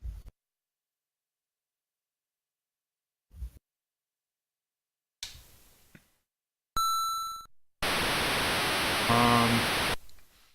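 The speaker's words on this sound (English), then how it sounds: "I know what that sound effect's supposed to be. It's applause." A burst of harsh, steady white-noise hiss standing in for applause in a retro Jeopardy video game, loud and electronic, following a few short beeps and tones.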